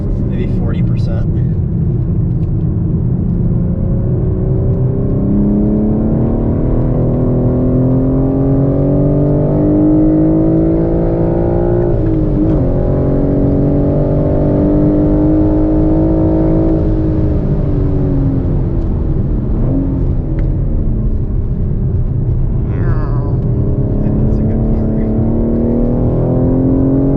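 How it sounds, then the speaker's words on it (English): A 2021 BMW M4 with a six-speed manual accelerating, its engine and induction noise droning loudly and steadily with rising and falling pitch as it pulls through the gears. "Because there's so much like induction noise."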